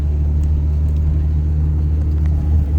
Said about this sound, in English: limiter, top of 3rd gear